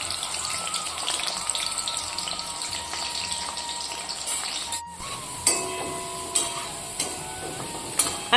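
Potatoes fry in hot oil with a bubbling, spattering sizzle that fills the first half, then a sharp drop and a quieter stretch punctuated by a few distinct clattering stirs and splashes.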